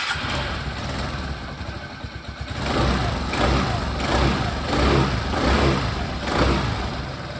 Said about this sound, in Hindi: बाइक में अभी चालू करके आप लोगों को दिखाऊंगा